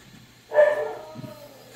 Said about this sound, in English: I'll wait for Pip to stop barking at nothing.